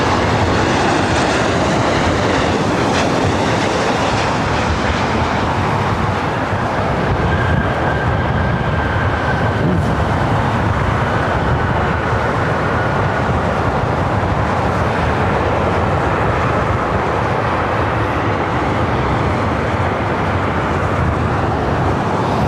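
A large jet roar at LAX, an Airbus A380 at the airport, a loud, steady broadband rumble and whine filling the whole span with no break, close and continuous.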